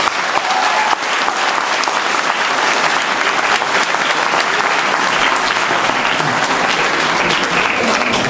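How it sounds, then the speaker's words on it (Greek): Loud, sustained applause from an audience honoring teachers at a Greek tutoring school's awards evening, a dense, even wash of clapping filling the whole stretch with no talking. "Ένα ζεστό χειροκρότημα για όλους τους καθηγητές."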